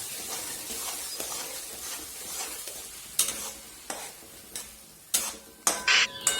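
A spoon stirs ground spice paste into a Bengali-style prawn curry sizzling in a pan, soft scraping and frying hiss punctuated by several sharp metallic clinks against the pan toward the end.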